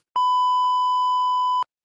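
A loud, steady censor beep on a podcast, one pure tone held for about one and a half seconds with a slight bump near the start, alone without talk.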